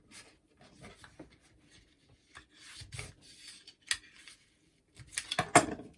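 A bore brush with its bristles removed is pushed and scraped through the magazine tube of a Taurus TX22 pistol, giving intermittent close rubbing and rasping strokes with short pauses and a few sharper scrapes near the end.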